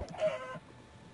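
A single short cluck from a chicken in the video game SkullCraft, faint and brief, fading into low background noise.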